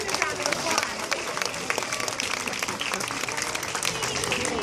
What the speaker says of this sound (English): Let's give her another great big round of applause.